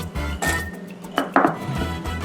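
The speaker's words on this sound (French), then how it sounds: "On va commencer par broyer les noix dans un pilon." Walnuts are crushed with a mortar and pestle in a home kitchen, a few hard knocks and grinding clinks in quick succession, close and fairly loud.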